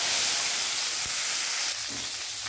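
Carrots and beans frying in a pan while cooking breakfast, a continuous bright hiss and sizzle that stays steady and close, with a faint low thump partway and no voices.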